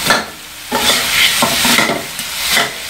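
Salty chicken stir-fried in a pan until the oil dries, a loud continuous sizzle broken by repeated scraping stirs close by.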